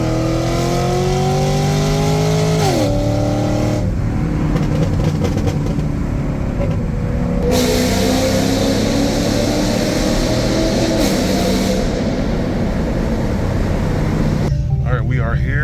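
A car engine drones and shifts pitch as the vehicle accelerates and cruises on the road, steady and fairly loud from inside the cabin, with gear changes audible.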